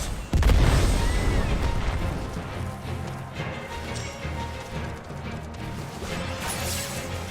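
Tri-cast fire spell bursting in Final Fantasy XV: a heavy explosive boom hits near the start, followed by a long rumbling, crackling tail and scattered combat clatter.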